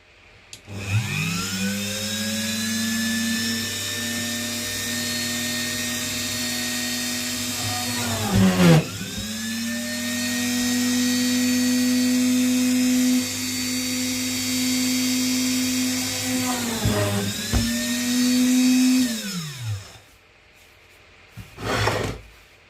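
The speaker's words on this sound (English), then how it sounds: "Just using this drill press." A motor whines at a steady high pitch through several long runs, winding down between them, with a grinding, rubbing edge as a bit cuts through material.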